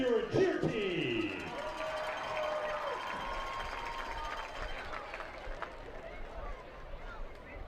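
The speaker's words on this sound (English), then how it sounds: "give a big round of applause for your Van Buren cheer team" Crowd applause and cheering for the Van Buren cheer team at a high school football game against Lake Hamilton, a broad steady wash of clapping from a large stadium crowd that holds throughout, with a voice heard briefly at the start.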